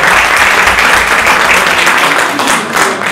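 Sustained applause from a conference audience at a summer school education debate, dense and steady clapping filling the room from start to finish.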